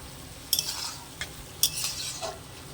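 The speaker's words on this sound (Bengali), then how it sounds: "চিনি দিয়ে একটু নাড়াচাড়া করে নেব।" Spoon scrapes and stirs pumpkin ghonto in a pan after sugar goes in, giving two bursts of scraping with a faint sizzle between them. No one talks.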